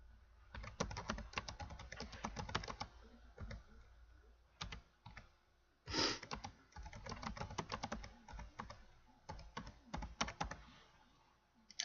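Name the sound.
computer keyboard typing a sentence via AutoHotkey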